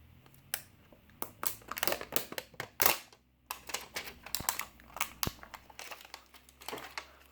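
Plastic wrapper being peeled off a Star Wars CCG card pack, heard as close, quiet crinkling and sharp crackles in irregular bursts with brief pauses, no talking.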